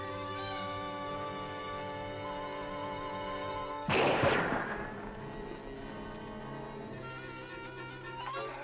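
A single sharp gunshot from a hunting scene in an old Western television drama cracks midway through a sustained musical score, loud and close, then fades quickly back under the music.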